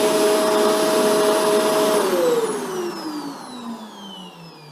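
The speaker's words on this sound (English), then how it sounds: "it turns itself off as soon as I tilt the vacuum into the upright position" A Shark Rotator NV752 vacuum cleaner runs loud and steady close by, then its motor pitch slides down as it winds down toward the end, with no voices.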